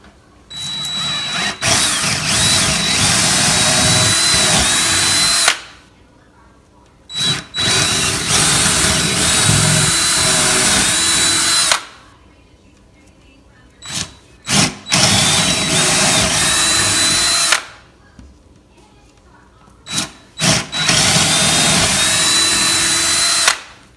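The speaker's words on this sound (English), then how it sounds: "drill a 3/8 inch hole through these 4 holes," A power drill whines loudly in several long bursts, grinding 3/8 inch holes through a door, with short silent pauses between each run.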